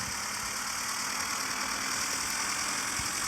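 Pickup truck engine idling steadily in a driving video game, a faint, constant low rumble with a high whine over it and no talk.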